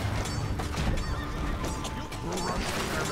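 A horse whinnies in the Battle Realms video game amid a dense mix of battle effects and clashing sounds, with talk partly over it.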